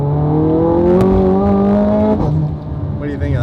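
A Ferrari accelerates hard on a very wet road, its engine note climbing loud and close through the gears before easing off, with tire hiss and brief voices underneath.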